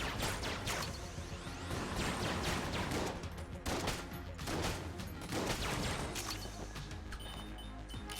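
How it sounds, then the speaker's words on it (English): Dense bullet effects crackle in the video game Enter the Gungeon, a continuous stream of quick overlapping shots and impacts bouncing around, faint overall and steady throughout. "there's so many just bullet effects bouncing around"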